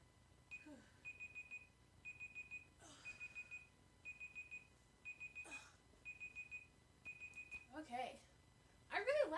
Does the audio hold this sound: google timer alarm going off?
yes